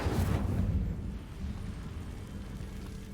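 The Incendio fire spell cast in Hogwarts Legacy: a loud whooshing burst of flame at the start that fades into a long, rumbling roar, with no talking.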